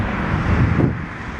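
Wind buffets the microphone in a continuous low, rumbling roar at an outdoor cemetery in Salt Creek, Ontario, with a faint wash of distant traffic underneath.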